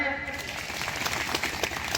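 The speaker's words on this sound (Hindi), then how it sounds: "तो ताली बजाइए" Applause from an audience at a farmers' rally in Bihar, a brief burst of clapping blended with crowd noise, fairly loud and close.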